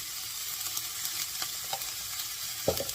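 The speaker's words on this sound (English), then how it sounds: "Let the onions fry for a minute, and after that we'll add tomatoes." Onions frying in a pan with chilies and a little salt, a soft continuous sizzle with faint crackles and one sharper pop near the end, no voices.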